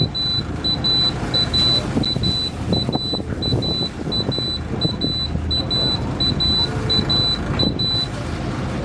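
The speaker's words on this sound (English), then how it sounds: "As you can hear, it's beep, beep," The control for a boat's bow thruster beeps as it switches off: a run of short, evenly spaced high beeps over a low mechanical hum and background noise, with a voice talking at times.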